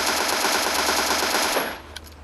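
Rapid automatic gunfire in the mobile shooter PUBG Mobile on the Livik map, a loud continuous burst for about a second and a half that stops abruptly, leaving a few faint clicks.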